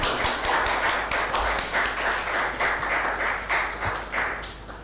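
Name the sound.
audience round of applause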